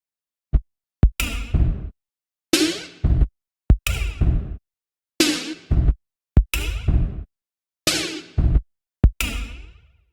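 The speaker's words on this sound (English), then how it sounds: "the pitch controls of the snare have been adjusted for that individual 16th note" Snare drum hits programmed in a Maschine step sequencer, with the pitch of individual 16th-note steps automated higher; crisp, loud hits fall in a sparse repeating pattern of short bursts and flams, with no one talking.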